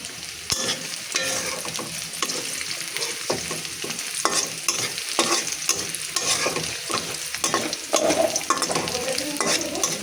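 Onions fry in hot oil with bay leaf, cinnamon and cardamom for mutton biryani, giving a loud, continuous sizzle broken by frequent scraping and clinking strokes of stirring. No voices are heard.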